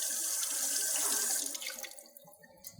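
Water gushing from a garden tap in a vented backflow test, a steady broad rush for about a second and a half that then tapers and thins into lighter splashing and trickling toward the end.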